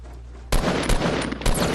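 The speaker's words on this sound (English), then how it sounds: "He's on top of the rooftop shooting at me." Gunfire in the Fortnite battle royale game, shots coming from an opponent on a barn rooftop at the stables: a quiet lead-in, then a loud burst of rapid shots with a second burst near the end.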